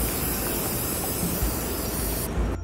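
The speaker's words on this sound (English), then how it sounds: "Put a couple of coats of spray paint on a mirror that was a little old and just dreary." Aerosol spray paint hisses continuously onto an old mirror, a loud close broadband spray that stops abruptly at the end.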